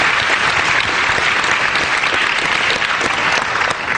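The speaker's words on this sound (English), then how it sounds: "ask you to hold your applause till the end, or otherwise we'll all be applauding the whole time" A large audience applauds at a panel debate on whether the Christian God exists, a steady, dense, loud wash of clapping that runs unbroken throughout.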